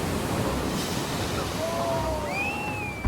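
Large ocean waves surge onto the shore in a continuous loud, broad roar, with faint tonal whistles rising over the wash near the end.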